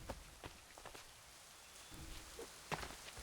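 Rain in Assassin's Creed 3, a soft, steady patter of drops on surfaces with scattered sharper drip ticks, faint and distant, no voices.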